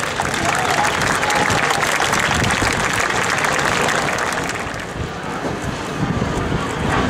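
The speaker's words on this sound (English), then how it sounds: "Would you join me in a big round of applause for Vlado Lenoch?" A crowd at a military air show open house applauds for pilot Vlado Lenoch, broad steady clapping mixed with wind buffeting the microphone, easing slightly before swelling again near the end.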